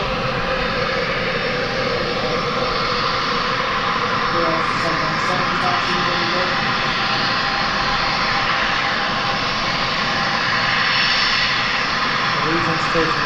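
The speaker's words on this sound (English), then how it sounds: "Region's taking the runway." Regional jet on the runway at Harrisburg airport, its engines giving a steady, broad, rushing whine at moderate distance. The sound holds constant throughout, with a voice talking over it.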